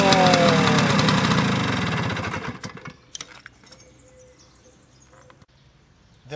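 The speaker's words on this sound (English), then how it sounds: "It's going together with the engine." A Piaggio Vespa 50S scooter engine idles loudly and close for about two and a half seconds with a rough, pulsing hum, then drops away to a faint, low background rumble.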